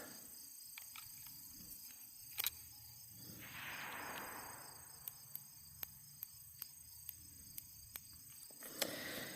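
Small clicks from adjusting the turret of an Osight K RMSC 6 MOA pistol red dot sight, a series of faint, evenly spaced dry ticks with quiet outdoor background noise and insects around.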